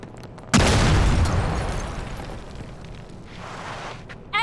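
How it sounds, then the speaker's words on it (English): A grenade detonates in a video game with a sudden, loud boom that rumbles and fades over several seconds, followed by a faint crackle and a small pop at the end. "Jason, grab some nades."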